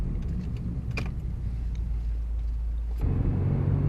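A car engine drones steadily while driving at about 35 mph, a low rumble with road noise that rises and thickens near the end.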